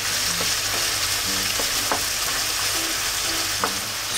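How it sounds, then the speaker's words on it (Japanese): Minced meat frying in its own rendered fat over strong medium heat in a pan, a dense, constant sizzle with occasional spatula scrapes and taps, close and loud. "やっぱこんな感じで油も出てくるとひき肉もだいぶ縮まってきますね。"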